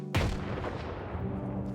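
Grenade exploding in a video game: one sharp, heavy boom that trails off into a rumbling decay over about a second and a half.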